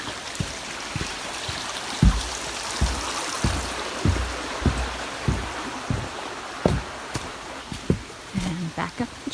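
A creek flows across a hiking trail on the Appalachian Trail approach, a steady close wash of running water with irregular low thumps from footsteps or handling, and no talking.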